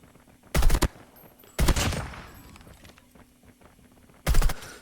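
A burst-fire gun in a video game shoots three separate loud bursts of rapid shots, each followed by a short fading echo, with quiet gaps between them.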